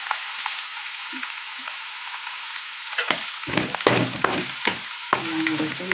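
Ginger, garlic, green chili and curry leaves fry in a pan for a chicken pickle, giving a steady close sizzle with scattered crackles and sharp pops that grow busier toward the end.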